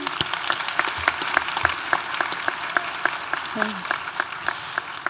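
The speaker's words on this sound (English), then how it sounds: "can we have another round of applause for Alan?" Audience applause at an honors graduation ceremony, a moderate sustained patter of many hands clapping in a hall, with a voice briefly audible beneath it.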